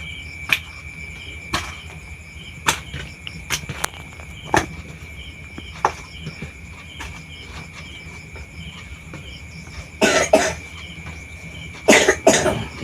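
Repeated sharp coughs break out every second or so over a constant chirp of crickets, ending in a louder burst of harsher coughing.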